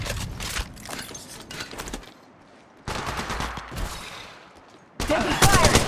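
Gunfire in the mobile shooter game Apex Legends Mobile: dense bursts of rapid shots and volleys in several loud stretches, separated by brief quieter gaps.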